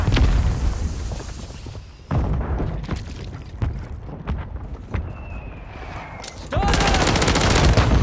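Mortar strikes and gunfire in a shooter video game: bursts of shots and heavy thumping blasts come in irregular clusters, one sharp loud impact near the middle and a dense louder burst at the end, with brief voices over the top.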